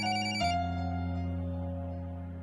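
A landline or mobile phone rings with an incoming call in a household drama scene, a loud electronic ring tone that starts abruptly and then holds as a sustained, slowly fading tone, with no speech.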